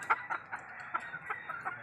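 Hens cluster around Daniel Adame's rooster, giving quick, repeated clucks in a steady patter, moderately close, with no talking.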